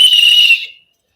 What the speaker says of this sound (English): You'd think I'd get a new whistle, wouldn't you, Snapper?